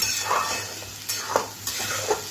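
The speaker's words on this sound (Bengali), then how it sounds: "টমেটো আর পেঁয়াজের গন্ধ যাতে না থাকে এটা একটু আমি নাড়াচাড়া করে কষিয়ে নিচ্ছি।" Onion and tomato masala being stirred and fried in a pan, with a soft steady sizzle and a few scraping strokes of the spoon against the pan, close and alone.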